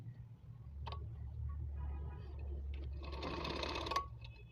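Sewing machine stitching a salwar runs in a steady close whir, with a brief burst early on and a louder, denser run of stitching near the end, faint room hum underneath.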